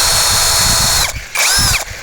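A Keelat KCD011 cordless drill whirs loudly and close, its motor running steadily, then briefly dipping and revving back up in short bursts.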